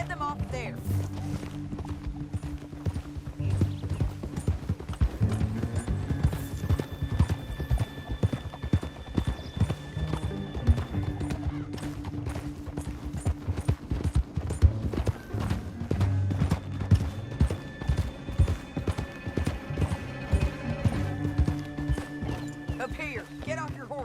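Steady clip-clop of horse hooves trotting throughout, with a horse whinnying and voices talking over a music bed in the video game Red Dead Redemption 2.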